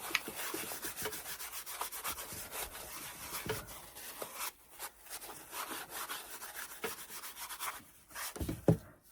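Rag wiping back finish on a rustic farmhouse Valentine wooden craft, giving repeated close rubbing and scuffing strokes in a steady back-and-forth rhythm, with no talk.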